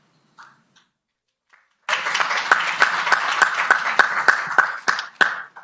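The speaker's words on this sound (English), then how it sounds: "Thank you for being the only crowd that will give that a round of applause." Conference audience at a policy event breaks into applause after a brief silence with a few faint sounds, the clapping sustained and fairly close, with sharp individual claps standing out over the dense patter until the end.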